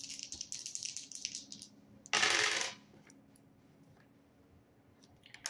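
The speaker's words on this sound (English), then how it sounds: "rolling the dice to see what I need to shuffle the deck to." Dice tossed during a tarot card reading: a quick run of light clicks and rattles, then one short bright clatter, close and alone in a quiet room.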